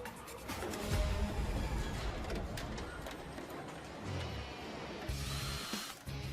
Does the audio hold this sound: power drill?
yes